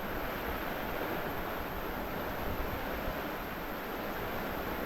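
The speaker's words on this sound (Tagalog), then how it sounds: "Matataas masyado ang alon mga amigo." High, rough Pacific Ocean waves surge in a steady, loud roar of broadband surf and wind that continues unbroken and near, with no speech.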